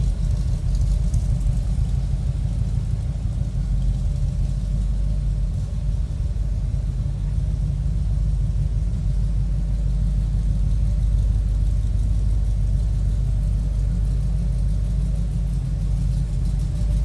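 Steady, throaty rumble of a 1956 Willys Jeep engine with headers and side-exit exhaust idling close by, low and even throughout with no revving.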